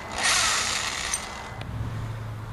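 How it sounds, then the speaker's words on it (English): A power drill with a spade bit bores into wood: a loud, close whirring grind for just over a second, then it drops to a quieter, steady low hum. "Put the other spade bit on. I'll try and auger it out a little bit."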